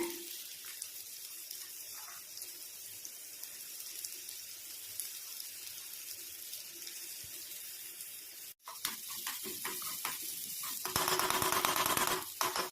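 Onions fry in sesame oil in a small pan, a steady hissing sizzle throughout that cuts out briefly, then returns louder and brighter after something is added, with no talking.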